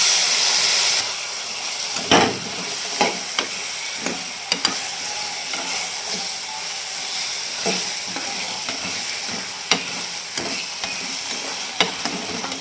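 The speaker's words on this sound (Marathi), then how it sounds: "आता त्याच्यामध्ये बटाटे टाकून घेते." Potatoes are stir-fried in a fried spice paste in a home kitchen, giving a loud, continuous sizzle and hiss close by, broken by repeated scraping stirs of a spoon against the pan, with no talk.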